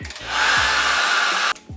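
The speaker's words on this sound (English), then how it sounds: "And then the blow dryer" A blow dryer runs on hair in a continuous, close whooshing roar lasting about a second and a half, switching on and then cutting off abruptly.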